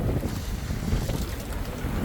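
Wind blows steadily across a sailboat at sea in light breeze, a broad roaring rush with microphone buffeting and water wash beneath, continuous and fairly loud with no talk.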